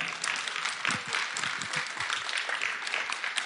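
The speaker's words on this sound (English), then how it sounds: "So I would just like to give a round of applause for that." An audience at a brunch event with Kanye West gives a steady round of applause, dense and continuous throughout, with faint voices and cheers mixed into the clapping.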